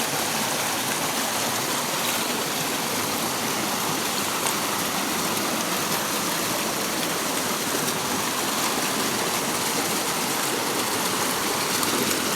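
Clear river water rushes steadily and continuously over the streambed, a dense, even, close wash of noise with no talk and no breaks.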